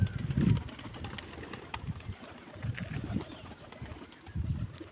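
Deep, low pigeon coos come in three slow bursts, close by, with faint background noise between them.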